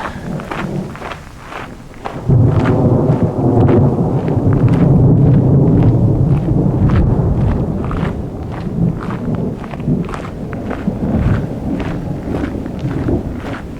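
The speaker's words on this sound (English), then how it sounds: "It's nothing quite like the sound of thunder reverberating off of mountains around you." Thunder rolling and reverberating off surrounding mountains in Kananaskis, a deep rumble that swells loudly after a quieter start, sustained for several seconds, then slowly decaying with lingering echoes.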